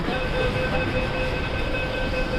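An underground metro train runs in a tunnel, a loud, continuous rumble and roar with a steady high whine held throughout, heard from inside the carriage.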